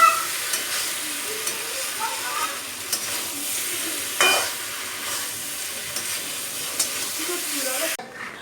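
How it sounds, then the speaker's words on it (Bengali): Jute leaf fritters frying in a pan of oil in a home kitchen, a soft steady sizzle with occasional stirring clinks and a brief louder burst midway. "পাট শাকের বড়াটা এখন ভাজবো এখানে বড়াগুলো ভাজে নিচ্ছে"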